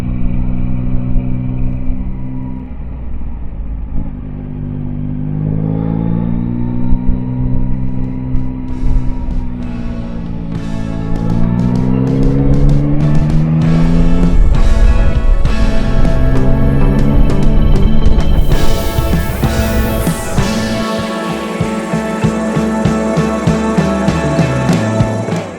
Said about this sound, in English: This is the Royal Enfield Meteor 350 in the Aurora trim